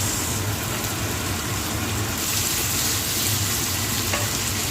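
Onions frying in a pan, a loud, dense, continuous sizzle with a steady crackling hiss close by and no voices.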